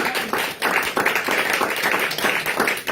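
A church congregation claps in praise of Jesus during a French-language service, steady rhythmic handclaps filling the room, loud and close, with a few voices mixed in.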